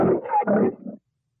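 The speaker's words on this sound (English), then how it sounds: "It's a bear." A bear growls in a single deep, rumbling call lasting about a second, close and loud, heard alone as part of a children's animal-sound guessing game.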